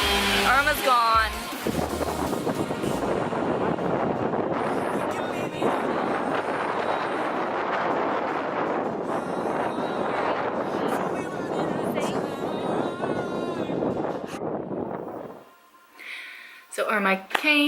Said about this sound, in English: Still super windy.